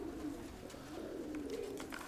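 A dove coos repeatedly at close range in a low, soft murmuring rhythm, with faint ambient background and no talking.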